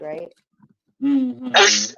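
A sharp sneeze cuts through casual conversation, loud and close, right after someone speaks briefly in a talk-show setting.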